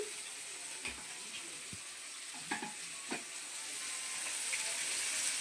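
Pointed gourd frying in oil, a faint, steady hiss of frying close by with scattered soft clinks and scrapes of utensils, growing slightly louder near the end, no voices heard.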